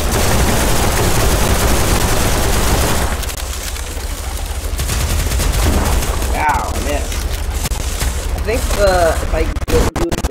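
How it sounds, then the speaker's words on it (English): Machine gun pistol firing in the online game BattleDudes.io, a rapid crackling burst of automatic shots filling the first few seconds, then quieter scattered game effects and sporadic clicks. "I got a machine gun pistol."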